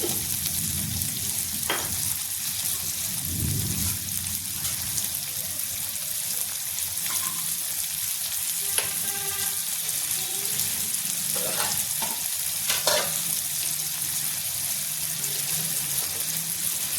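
Cut potatoes and onion sizzle and fry in a pan on a gas stove, a continuous crackling hiss with occasional stirring clinks and scrapes throughout.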